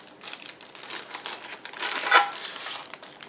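Plastic packaging crinkles and rustles in quick, close bursts as a box holding a LogiLink device is unpacked, with no talking.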